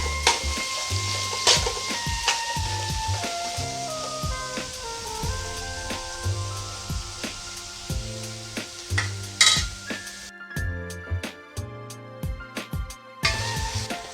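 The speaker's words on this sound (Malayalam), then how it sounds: "വലിയ സവാളയാണ് എടുത്തേക്കണം. ഇതൊന്ന് വഴറ്റി കൊടുക്കാം" Large onions sautéing in a pan, a soft sizzle under loud tonal background music, with occasional clinks of a spoon against the pan and a short stretch near the end where the frying drops out.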